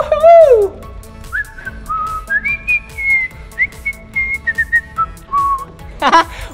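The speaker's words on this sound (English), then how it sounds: "Did you hear that? My whistle? You heard my whistle?" A person blows a whistle in a short wavering tune, loud and close, sliding between notes with brief pauses.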